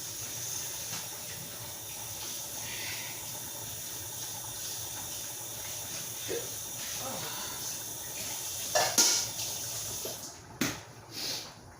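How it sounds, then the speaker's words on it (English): A pot of pork stew simmers with a soft, continuous hiss and bubbling. Near the end come a few louder knocks and clatters. "And you're just gonna let it simmer."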